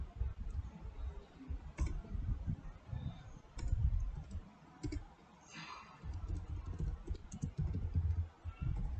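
Someone types a password on a computer keyboard, a run of soft, irregular key clicks in short bursts over a low, rumbling background hum.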